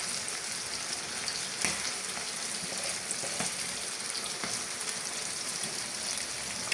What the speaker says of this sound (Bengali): মশলাগুলো দিয়ে আমি আরও 2-3 মিনিট এটাকে ভেজে নিব,